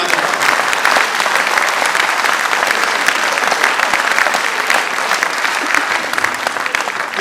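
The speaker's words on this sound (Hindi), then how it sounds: "तालियां बजाओ जरा जोरदार।" A large audience claps loudly and steadily throughout, a dense continuous wave of applause at a Hindi political satire comedy poetry show.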